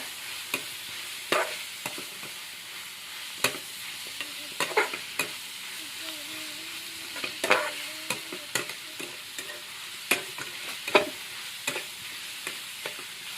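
Chavalike (cluster beans) are stir-fried and mixed in a pan: a steady soft sizzle is broken by frequent sharp scrapes and taps of a spatula against the metal.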